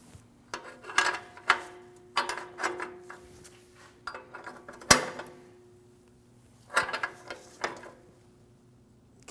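Replacement downstream O2 sensor being threaded by hand into the exhaust pipe of a 2012-2016 Honda CR-V 2.4L, intermittent metallic ratcheting and scraping clicks in short bursts with quiet gaps.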